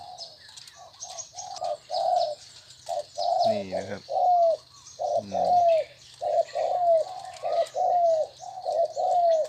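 A dove coos repeatedly in short, rhythmic phrases up close, with a brief spoken remark and a couple of deeper rolling coos mixed in.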